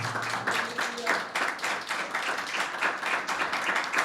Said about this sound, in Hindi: जबरदस्त तालियां बजाएं।